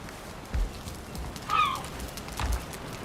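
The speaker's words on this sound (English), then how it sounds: "was that a seagull in the house?" A single short seagull cry sounds in the game Valheim, a brief, clear call over a muffled low rumble and a few soft thuds.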